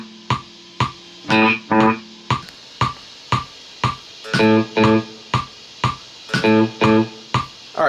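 Plucked guitar notes fed through MXR and Modley delay pedals set to a dotted-eighth repeat, each pick followed by rhythmic echoes, with a few strummed chords mixed in among the single plucks; close, clean, and without talk.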